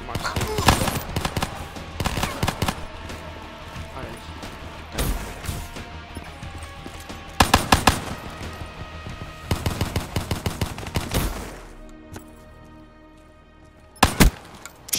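Bursts of automatic and single gunfire in a Black Ops 3 Gun Game multiplayer match, loud and close, coming in clustered volleys with short pauses, plus a final burst near the end.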